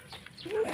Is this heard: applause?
no